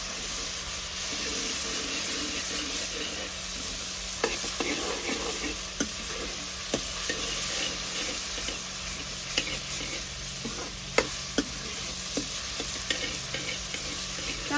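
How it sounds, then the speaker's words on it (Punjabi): Chopped tomatoes fry in a pan for sev bhaji, a continuous hiss and sizzle broken by sharp clicks and scrapes of stirring scattered throughout, with no voices. "ਹੁਣ ਆਪਾਂ ਇਹਨਾਂ ਨੂੰ ਭੁੰਨ ਲਵਾਂਗੇ 2 ਮਿੰਟ ਵਾਸਤੇ ਚੰਗੀ ਤਰ੍ਹਾਂ ਪਕਾ ਲਵਾਂਗੇ"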